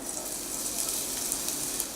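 Cumin seeds and grated ginger sizzle in about a teaspoon of hot oil in a pan while making a semolina kachori filling, giving a steady, close, crackling hiss with no talk.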